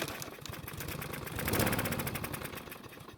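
A Troy-Bilt lawn mower engine starts and runs steadily, a continuous close mechanical drone with a rapid pulsing beat that swells slightly midway.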